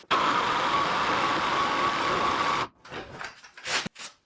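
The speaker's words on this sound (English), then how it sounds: "I'm going to see if I can finish it with the Sawzall" A Sawzall reciprocating saw cutting into a thick wood slab, tearing at the edges: a loud, close, steady buzzing motor drone that runs for a few seconds, cuts off, then gives a few short rough bursts.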